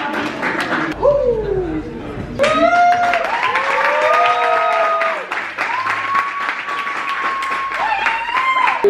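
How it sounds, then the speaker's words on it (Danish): A studio audience on a Danish TV-series set applauds in a dense wash of clapping. People talk and call out loudly over it for most of the stretch. "så klapper vi alle sammen igen"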